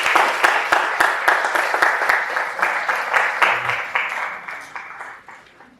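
An audience at a public lecture claps steadily, with sharp rhythmic hand claps over a dense applause that gradually fades out.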